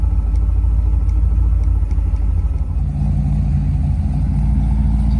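An old, long-idle car engine running at idle, a loud, steady low rumble close by with a slight dip and recovery midway and no talking.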